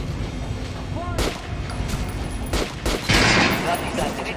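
Gunfire from the Metro: Last Light Redux video game, a few sharp shots and a heavier burst near the end over a steady mechanical background, with faint ringing tones and someone speaking.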